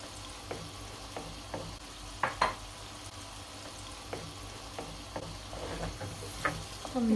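A spoon stirs six eggs into a sizzling egg and lentil curry, the frying hiss running steadily under scattered scrapes and knocks against the pan, close up with no voices.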